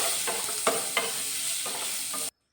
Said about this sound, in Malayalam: ഒരു 10-25 ചെറിയുള്ളി ചെറുതായി കട്ട് ചെയ്തിട്ട് അതും കൂടി അതിലേക്കിട്ട് നന്നായി ഒന്ന് വഴറ്റിയെടുക്കുക.